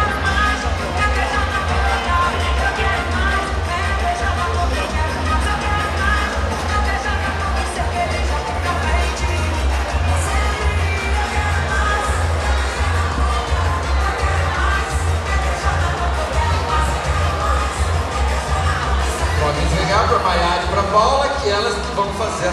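An audience at a carnival court election for the 2024 Carnartur in Artur Nogueira cheers and shouts continuously over a steady thumping music beat, with a crowd roar that stays constant throughout and an amplified voice talking over it.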